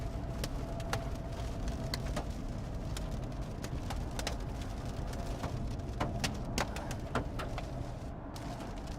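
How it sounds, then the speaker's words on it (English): Small hail pelts a storm-chase vehicle during a thunderstorm, a dense stream of sharp ticks and taps over a steady rumble of rain and road noise, with no talk. "We're getting a little hail. Yeah, getting a little hail. You can hear that, guys."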